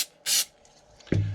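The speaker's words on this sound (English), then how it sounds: "spray on that side" One short, sharp hiss of super glue accelerator sprayed up close onto a model airplane wing part, followed after a pause by a brief low knock.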